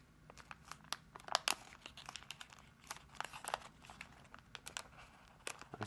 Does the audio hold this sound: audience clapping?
no